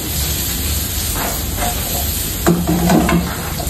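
Chicken liver and gizzard sauté in a pan with aromatics, cracked pepper and bay leaf, giving a steady loud sizzle and hiss with scraping stirs, close by and with no talking.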